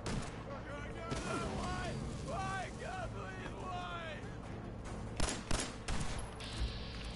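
Gunfire in the video game Fallout 4, bursts of shots and impacts mixed into a busy game soundscape with wavering tonal effects, sharper cracks near the end, while a person talks over it.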